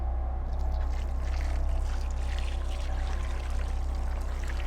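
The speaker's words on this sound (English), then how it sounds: "we're going to add water to this bin, rinse the tools off, dry them off" Water poured into a bin holding baking soda while rusted garden tools are cleaned, a continuous close splashing pour that stays loud and even with no talking.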